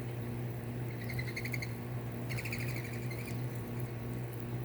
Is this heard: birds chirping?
yes